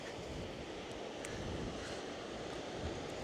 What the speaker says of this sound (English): It's a bit breezy down here, just down on a Ventnor East Cliffs.